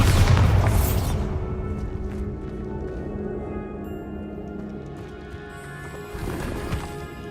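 A Bombarda blasting spell goes off in Hogwarts Legacy: a loud, close burst at the start that decays into a rumbling, crackling tail, then a smaller swell near the end. Background game sounds run underneath.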